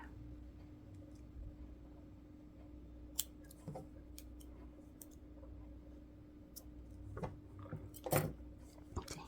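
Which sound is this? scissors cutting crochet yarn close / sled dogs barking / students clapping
scissors cutting crochet yarn close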